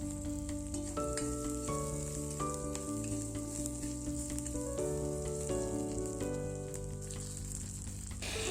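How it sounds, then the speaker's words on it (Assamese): Vegetables fry in a pan with a steady, even sizzle that runs the whole time beneath louder background music. "ভাজিম ভালদৰে।"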